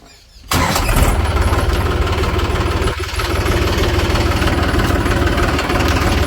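A tractor engine starts up abruptly and runs at a steady, loud, rough idle with a rapid knocking chug, close by and continuous, with a brief dip midway and no talking.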